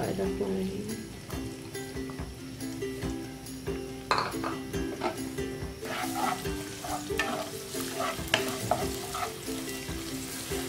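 Ginger and garlic crackle and sizzle in hot oil over a high flame, with stirring and occasional utensil clinks, a voice talking over the cooking.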